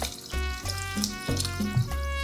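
Water runs steadily from a tap into a pot of canned pinto beans and green chilies, a continuous close gushing pour layered with bright tonal music.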